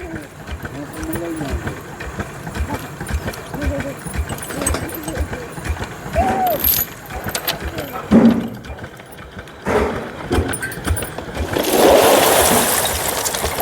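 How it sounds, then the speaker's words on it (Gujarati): A borewell drilling rig grinds into hard rock on a farm, a steady mechanical engine drone with rougher grinding bursts and louder crackling stretches near the end, and voices talking over it. "તમે ખાલી પાણાનો અવાજ સાંભળજો, કાચને વારી કકડે."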